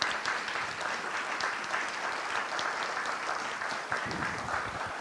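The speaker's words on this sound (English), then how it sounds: "Let's give them all a nice round of applause for theirs." Audience applause after a candidate forum, steady dense clapping from a seated crowd throughout, moderately loud and even with no talk over it.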